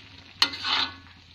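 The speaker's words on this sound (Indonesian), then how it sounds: "kita aduk-aduk ya." Fish and taro stems are stirred in a frying pan: a sharp scrape and clatter, then a brief sizzling swirl of hot oil, close up and alone over a low background hum.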